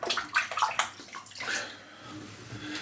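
Water splashes in several quick, close bursts, then trickles and drips more softly as the motion slows.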